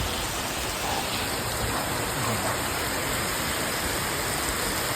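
Heavy rain pours down steadily in Botad village, a dense, even wash of hiss that stays loud and unbroken throughout.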